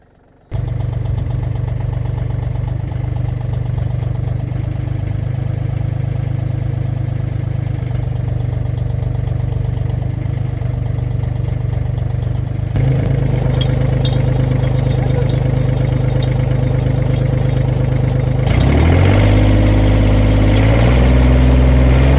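A used Yanmar FX30S mini tractor engine runs steadily and loud throughout, a constant low idle that rises in pitch and intensity near the end as it is revved.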